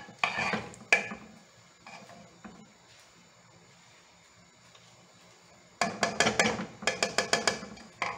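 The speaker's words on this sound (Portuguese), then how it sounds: "Vamos aqui refogar um pouquinho." Beef heart and onions being sautéed in a pot: quick metallic scrapes and clinks of a spoon against the pan in two bursts, separated by a quiet stretch, close by and without talk.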